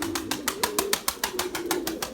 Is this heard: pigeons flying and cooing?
yes